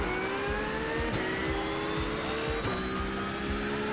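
GT3 race cars in iRacing practice for the 24 Heures du Mans, several engines whining past one after another with rising and falling pitch, steady and fairly close.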